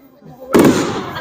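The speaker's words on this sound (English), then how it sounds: "these are really nice fireworks" A firework bursts loudly at an Eid celebration after a quiet moment, its broad crackling blast sustained and slowly fading.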